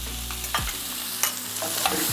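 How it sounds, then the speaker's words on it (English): Fresh garlic sautés in a Cajun cream sauce, a low steady sizzle with a few sharp scrapes of a spoon stirring through the pan, close and alone with no voices. "Give it a saute."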